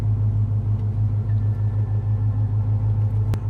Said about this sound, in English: So right now I'm just letting the car warm up, get up to temperature.